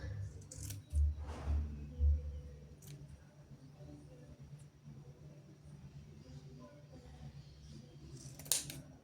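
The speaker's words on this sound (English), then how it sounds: "now we need to cut through everything" Scissors cut through a bundle of wrapped yarn to make a pompom, making a few faint, crisp snips close by in an otherwise quiet room.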